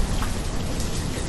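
Steady rain falls in the city-building game Banished, a dense, even patter of drops with no voices over it.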